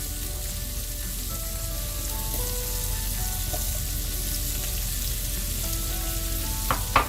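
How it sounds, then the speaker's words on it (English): Shrimp and green onions frying in a hot pan with a steady, dense sizzle that holds evenly throughout, close and continuous, with a brief utensil clatter near the end. "I'm going to add some of the green onions,"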